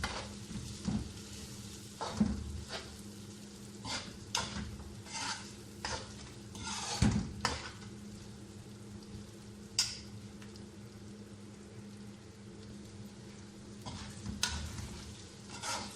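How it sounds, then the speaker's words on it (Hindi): Spices fry in a pan with turmeric, red chilli powder, cumin and dry coriander, with a soft sizzle under intermittent scraping and clinking stirs of a spoon against the pan, fairly quiet and with no talking. "अब इसको अच्छी तरह फ्राई करूँगी"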